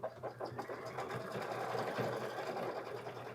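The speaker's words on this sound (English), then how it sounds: "And there it's doing that nice top stitching" An embroidery sewing machine top stitches a pouch with a close, rapid, steady whirring hum, broken by quick needle clatter at the start.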